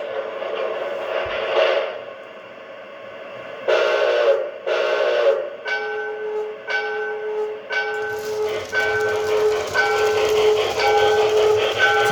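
A Proto 1 model train locomotive pulls away on its own, a steady electronic engine and bell-like tone ringing in repeated bursts that settle into a continuous hum with sharp tonal chimes, close and fairly loud with no talking.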